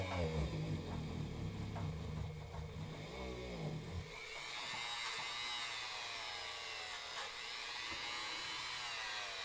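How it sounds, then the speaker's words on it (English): A motor runs at a low hum, then shifts to a higher, brighter whine as a polishing wheel grinds steadily against an AR-15 trigger part, continuing alone. "don't hold your polishing wheel in one spot"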